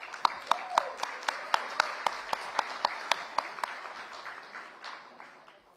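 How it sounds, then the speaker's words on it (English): An audience at a live oral health summit event claps in an evenly spaced, rhythmic beat, moderately distant, and the clapping fades gradually toward the end. "A huge round of applause,"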